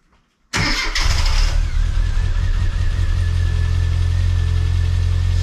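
A classic Mini's engine fires up for the first time after workshop work, with sudden cranking that catches within a second and settles into a loud, steady, slightly rough idle close by.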